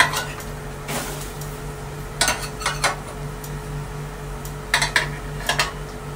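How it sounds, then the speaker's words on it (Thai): Leek and celery stir-fry in a pan with a continuous hiss, broken by clusters of sharp metallic scrapes and clinks from a utensil working against the pan. "ผัดให้ผักสุกนะคะ"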